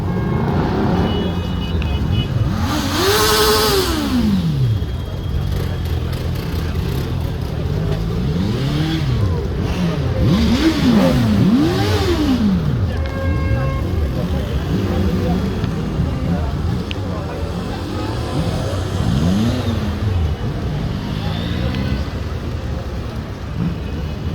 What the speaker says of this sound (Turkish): Yani trafiği açıyorlar. Konvoy giriyor.